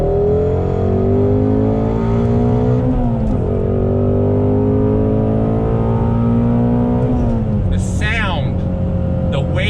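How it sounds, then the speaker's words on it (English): A Ford Shelby GT350 V8 accelerates hard out of a turn, its loud engine note climbing through the revs with a brief dip at a gear change and a sharp rise near the end. "Coming out of the turn, ease on throttle."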